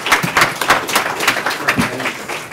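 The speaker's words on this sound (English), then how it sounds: "one last round of applause here" Audience applause at a city council meeting, a dense patter of many hands clapping steadily and fairly close, with scattered louder claps and faint voices mixed in.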